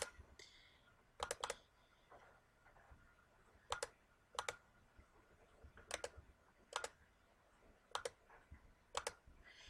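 Computer keyboard keys and a mouse clicking as the Control key is held down to select several items: sparse, quiet single and double clicks at irregular intervals over faint room noise.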